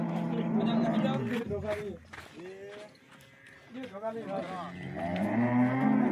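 Several cattle moo loudly and repeatedly while being loaded into a sand-bedded truck from a pen near Jamnagar, with voices talking throughout and a quieter stretch midway.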